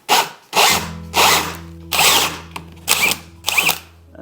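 A power drill fitted with a spade bit bores into a wood board in repeated short whirring bursts, about six close, loud pulses separated by brief pauses, with no talking.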